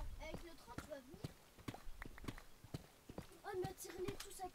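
Hooves of a Minecraft horse clip-clop in a quick irregular trot, with snorts mixed in, under people chatting in French.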